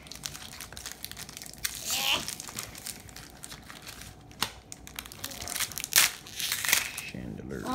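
A Pokemon Sun and Moon Unified Minds booster pack has its foil wrapper crinkled and torn open up close, a run of crackling rustles and rips, while someone talks alongside.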